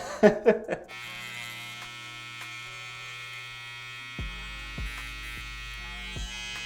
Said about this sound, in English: let's grab my trimmer